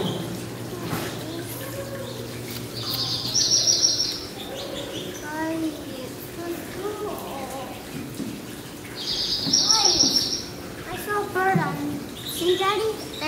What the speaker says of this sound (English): There's a bird on that cage too.